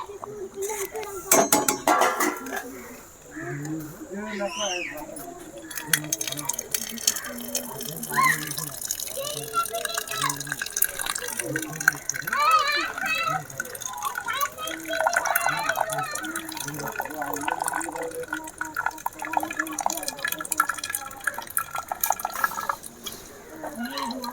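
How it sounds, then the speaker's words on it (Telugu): Water splashes and trickles steadily into a pot of cooked leafy greens, with occasional clinks of cookware and a voice talking faintly in the background. "నీళ్ళు అంత వేసుకుంటున్నాం"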